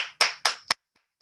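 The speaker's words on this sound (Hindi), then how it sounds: "एक बार शानदार सम्मान में ताली होना चाहिए हम सबके ग्रेट अपलाइन आदरणीय सचिन अग्रवाल जी के लिए" A few sharp hand claps, three distinct bursts in quick succession, given in honour of a guest at a team counselling gathering, close and fairly loud, then a couple of faint taps before silence.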